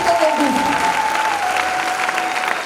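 A church congregation applauds loudly in a dense, sustained roar of clapping that fills the whole moment, with a steady tone and crowd voices running faintly underneath.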